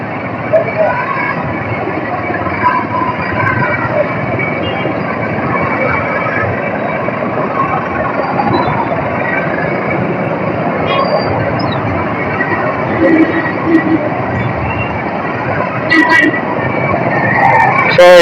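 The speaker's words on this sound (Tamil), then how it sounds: "இப்பவுமே இவ்வளவு டிராஃபிக்கா இருக்கு." Dense road traffic on a Puducherry street in the morning: a steady, continuous roar of cars, trucks and buses passing close by, with faint horns and a low babble of voices underneath.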